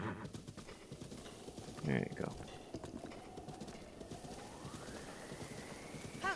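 Horse hooves clip-clop steadily in Breath of the Wild as the mount trots along a path, a continuous rhythmic clatter under music and someone talking briefly, with a short whinny-like burst near the start.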